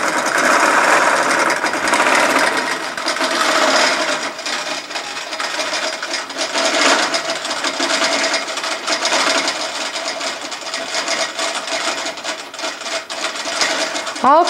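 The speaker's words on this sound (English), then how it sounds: "I'm going to let it stitch a few stitches" An Android Quilt Magician quilting sewing machine stitches steadily, a fast, even mechanical whir and patter of needle strokes, close and loud, running continuously for the whole stretch.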